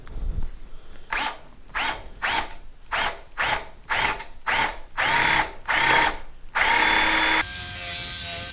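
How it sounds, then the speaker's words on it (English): A drill with a 22 bit bores all the way through a Thinline Telecaster guitar body: about ten short, loud whirring bursts in a steady rhythm, then a longer continuous grind that eases into a steady whine at the end. "we can then drill all the way through with the 22"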